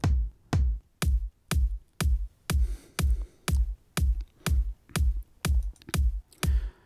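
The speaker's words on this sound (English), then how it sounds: "So now it's playing bass drum 1." A punchy electronic bass drum from the HY-Plugins RPE2 Euclidean sequencer thumps in a steady, evenly spaced pattern, about two beats per second, dry and alone with nothing else playing.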